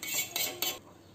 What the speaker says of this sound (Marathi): हे मसाल्यामध्ये मी याला आता मिक्स करून घेत आहे।